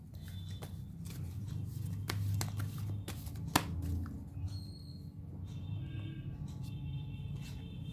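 Tarot cards being handled and shuffled by hand, with soft papery riffles and light clicking taps scattered over a low steady background hum, close and fairly quiet, no voices.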